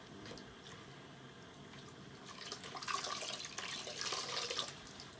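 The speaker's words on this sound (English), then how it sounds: "This is warm water, not scorching hot water." Warm tap water runs steadily into a sink during leg shaving, a soft continuous trickle that grows louder and splashier midway through, with no talking.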